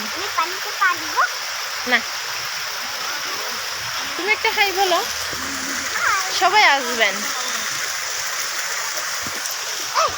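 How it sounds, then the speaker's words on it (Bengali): Constant rushing of water spilling down a small waterfall at Guimara, close by and steady, while people talk over it. "দেখো এটা কত সুন্দর, পানি পড়তেছে"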